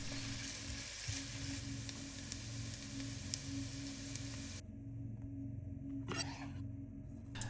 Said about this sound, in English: Now add 2 diced shallots and cook them until they start to turn a light golden brown.